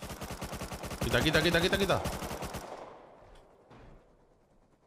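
MP5 submachine gun firing in the survival game Rust, a fast loud burst of rapid shots for about two and a half seconds, then fading reverberation and a faint later thud, with one brief spoken word over it.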